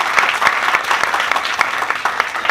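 Steady applause from an audience at a ribbon-cutting ceremony, many hands clapping at once, continuous and moderately loud with no voices above it.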